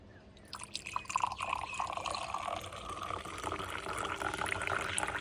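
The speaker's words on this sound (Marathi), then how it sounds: "फ्रान्सिस चा ग्लास भरतो हा." Liquor trickles and splashes steadily into a glass at a village festival gathering, a close, continuous pour with dripping liquid sounds running for several seconds.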